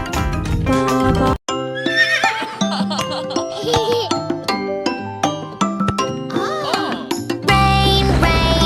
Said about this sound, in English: Neigh, neigh, the horses say.